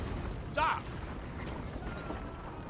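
A 9-pounder cannon in the Napoleon: Total War video game fires once as a single short boom, fairly faint against a low background rumble, then fades quickly.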